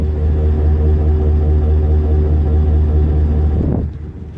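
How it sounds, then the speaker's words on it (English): Exhaust of a 2020 Chevrolet Silverado LT pickup idling with a steady, low, muffled burble that holds evenly before tapering off near the end. "Here's an exhaust clip of the truck."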